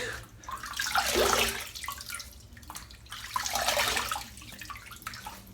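Warm tap water runs into a sink for a wet shave, swelling in two rushing bursts with quieter trickling between, close by.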